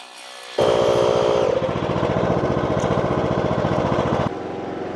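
A lawnmower engine starts up abruptly from quiet and runs at a loud, steady throttle with a rapid putter, then drops sharply to a lower idle near the end.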